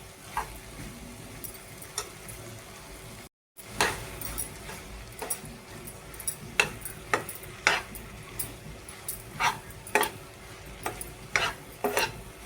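Masala okra with coriander being stirred and sautéed in a pan, with quiet sizzling under irregular scraping and clinking of a spoon against the pan, sparse and fairly faint, with no talking.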